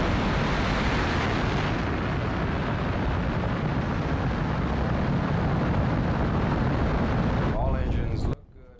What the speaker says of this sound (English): finally we reach the climax of the scene with the launch of the rocket